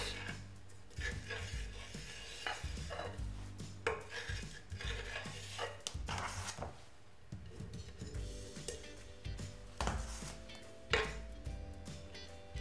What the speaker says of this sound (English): now I'm just going to take my scraper and scrape that